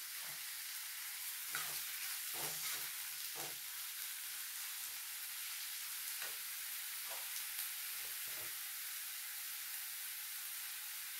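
Masala cooks down in a pan with a splash of water for a spicy fish curry, hissing in a steady wash of sizzle while a few spoon scrapes and stirs come through nearby.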